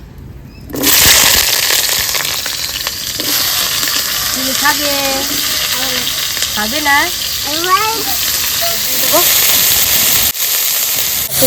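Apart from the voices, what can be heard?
brinjal frying in oil in a wok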